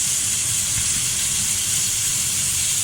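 A ground beef burger patty for a low-carb keto burger fries in a pan with a steady, loud, close hiss and crackle that holds unbroken throughout, with no voices over it.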